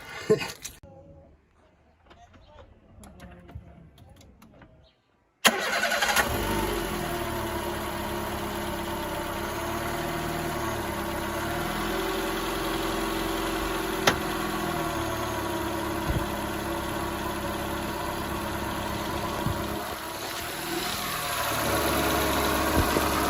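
A Peugeot 106 engine fires after a freshly changed rocker cover gasket and settles into a steady, even idle close by, after a few seconds of quiet background noise, with faint voices over the running engine.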